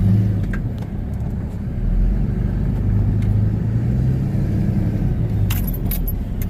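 A vehicle engine idles and rumbles low and steady as it crawls up a small ramp set against a cliff edge, with a faint metallic jingle near the end and no talking.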